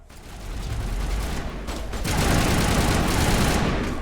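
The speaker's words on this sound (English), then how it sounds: "Now I'll just barrel stuff these guys with the shotgun" Shotgun blasts and combat noise from the video game Mass Effect on Insanity difficulty, a dense, loud roar of gunfire and mechanical clatter that swells into a heavier burst midway, with no talk.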